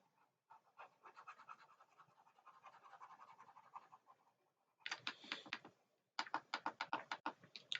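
Computer keyboard keys clicking while drawing on a laptop, a soft steady run of taps followed by two louder, faster bursts of sharp clacks close to the microphone.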